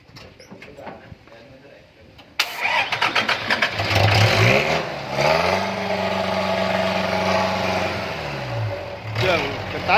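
A small Thai iTaen farm tractor with a 110 engine and 115 gearbox starts up abruptly, then runs loudly and steadily close by, its chugging drone shifting in pitch as it revs and settles.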